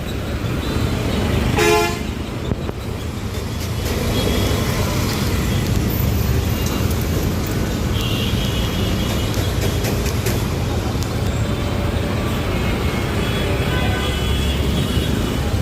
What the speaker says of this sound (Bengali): গুলিস্থানের এই সড়কটিতে যানবাহনের যানজটের তীব্র চাপ